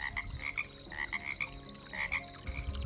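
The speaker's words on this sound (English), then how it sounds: "you can hear the frogs" Frogs croak at night beside a water source along a trail campsite, a chorus of rhythmic, pulsing calls that overlap and repeat, close and clear, with no talking.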